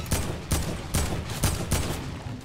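Gunfire in the Fortnite video game: five loud bursts of shots come at a steady half-second rhythm, close by, with no talk.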